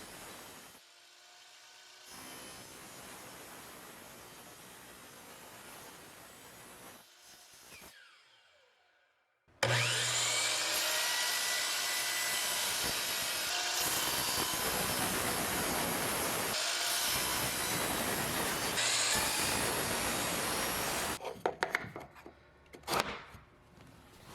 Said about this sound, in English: When making angled cuts on the saw, it's sometimes hard to know where the blade is going to make contact with the wood